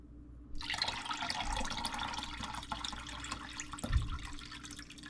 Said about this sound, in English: Okay, 4 cups of water.